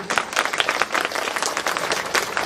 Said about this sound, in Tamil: இவருக்கு உங்கள் உற்சாகமான கைத்தட்டலை தயவு செய்து